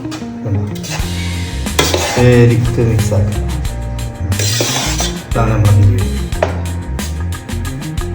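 Beef biryani ingredients are stirred in a pot, with repeated scraping clinks of a utensil against metal over continuous background music and some voice.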